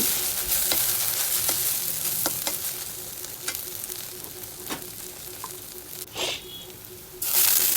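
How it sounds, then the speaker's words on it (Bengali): Okra fries in a little oil in a home kitchen pan, a close, continuous hissing sizzle broken by several sharp stirring clicks and scrapes, with a louder burst near the end. "শুধু শুকনো শুকনো অল্প তেলে ভেজে নিতে হবে"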